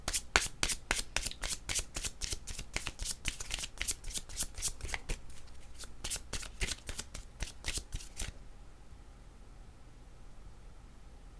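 A deck of cards for an oracle card reading shuffled by hand in a rapid, even run of crisp slaps and riffles, close and fairly loud for about eight seconds, then stopping into near silence.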